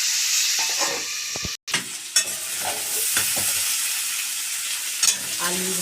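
Potatoes sizzle in hot oil in a home kitchen, a constant hissing fry broken by utensil scrapes and knocks as they are stirred, with a brief gap in the sound near the start.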